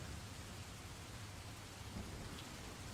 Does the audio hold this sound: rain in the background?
yes